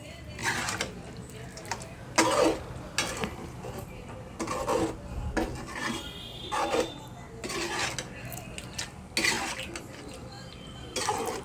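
A spoon scrapes and clanks in a pot of traditional chicken gravy in a home kitchen, repeated bursts of metallic stirring and knocking at an irregular rhythm, close and moderately loud.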